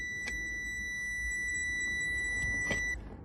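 A Power Probe PPECT3000 circuit tester emits a steady, continuous high-pitched electronic beep that holds for about three seconds before cutting off, with faint clicks and handling noise beneath.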